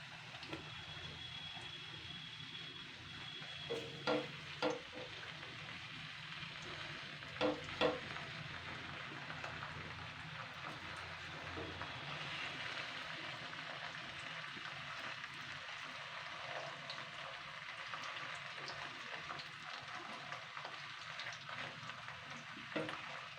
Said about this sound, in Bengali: এখানে আমি কিন্তু কড়াইতে বেশ খানিকটা কিন্তু রিফাইন্ড তেল দিয়েছি। তো এবার আমি দেখুন এই পটলগুলো আমি আস্তে আস্তে দিয়ে দেবো